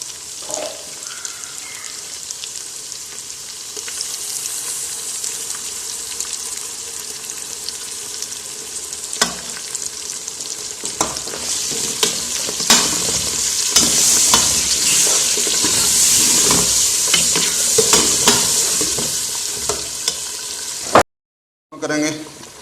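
Mutton pieces sizzle and fry in a pot as tomato and onion paste is added and stirred in, a steady close sizzle with scraping stir strokes throughout, ending in a brief cut to silence.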